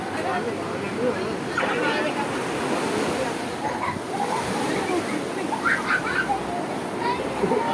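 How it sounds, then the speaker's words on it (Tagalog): Strong sea waves surging and crashing along a shore, a continuous loud churning wash with rushing surges, while people talk nearby. "Wow, dagat. Swimming ng dagat. Oh, dagat. Ang lakas ng alon ah."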